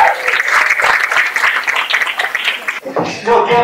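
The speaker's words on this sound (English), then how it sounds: "Let's give a big round of applause there." Loud applause from a school choir concert audience greets the women's chamber ensemble, a dense wash of many clapping hands that breaks off near the end as a voice begins speaking.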